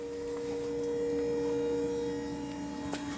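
Steady electrical hum with a strong tonal whine from a running DC-DC converter in a Jeep CJ7 electric conversion, constant and close throughout with faint clicks near the end.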